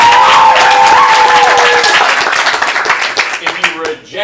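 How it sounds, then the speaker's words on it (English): An audience claps loudly at a stand-up student showcase. The dense, steady clapping thins out toward the end as a few voices and some other tones come through over it. "If you accept his apology, applaud now."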